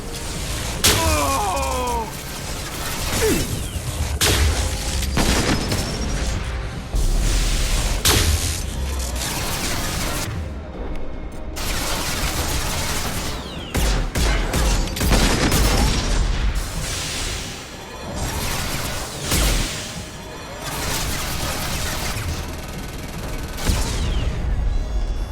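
A heavy weapon fires in Mass Effect 2, with dense, loud booms, explosions and rapid gunfire crashing in repeated bursts across a noisy combat scene.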